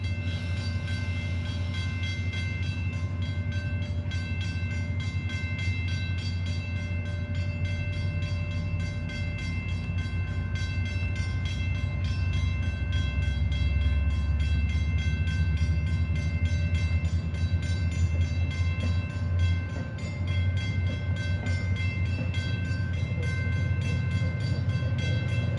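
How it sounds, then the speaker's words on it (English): A CSX freight train rolls past a neighborhood crossing in a long, steady rumble with a sustained drone of engine tones and wheel noise, loud and continuous throughout. "Alright, there's a train."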